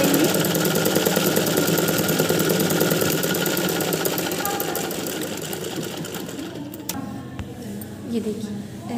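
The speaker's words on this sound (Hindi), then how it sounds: "ये देखिए ऐसे ही सिलते हुए" A sewing machine stitching a smocking frock runs continuously and loudly up close with a fast, even mechanical whir, then slows and stops near the end, leaving a few faint clicks and handling noises.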